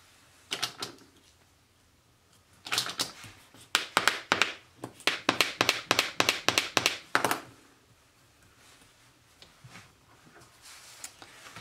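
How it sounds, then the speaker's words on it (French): Paper being folded and creased for a Christmas pop-up mini album page: a run of close, crisp taps and pressing thumps in quick succession, clustered in a burst of a few seconds with quieter handling before and after. "Je fais mon pli et après je vous redis."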